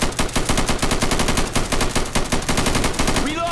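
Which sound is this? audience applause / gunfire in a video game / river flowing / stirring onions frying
gunfire in a video game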